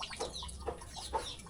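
Chickens cluck close by in short repeated bursts, a few distinct calls over about a second and a half against low background noise, with no speech.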